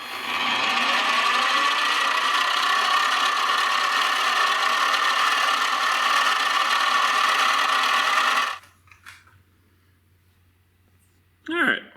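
A sewing machine runs steadily for about eight seconds as it stitches heat barrier interior panels for a V8 Crossfire, a loud continuous mechanical whir that stops abruptly, followed by quiet and a brief voice at the end.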